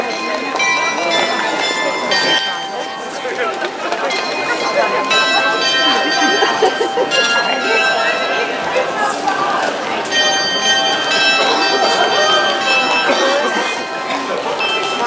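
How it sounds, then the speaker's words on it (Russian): Small bells chime in a busy Düsseldorf street scene around five o'clock, ringing steadily through a loud crowd of talking people and bustle. "Ты, наверное, 5 часов пробила на этих колокольчиках."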